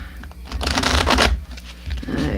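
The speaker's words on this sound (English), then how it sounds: "I got one more shuffle I'll do." A deck of tarot cards is shuffled by hand, a close riffling and scraping burst that swells in the middle before settling into softer card handling.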